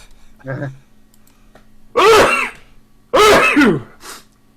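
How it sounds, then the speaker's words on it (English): Two loud, explosive sneezes about a second apart, each with a sharp intake of breath, preceded by a brief soft vocal sound and followed by a quieter one. "excuse me, I'm going to sneeze."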